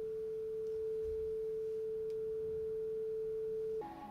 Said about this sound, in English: it's going to use a sine wave, measure that sine wave with a microphone, right in front of the speaker